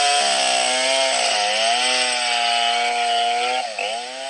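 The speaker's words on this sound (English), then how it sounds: "Take note of the man with the chainsaw and observe his actions." A chainsaw runs steadily and loud, close by, its engine pitch holding high with slight dips and a brief drop near the end as the load changes, cutting wood with no voices.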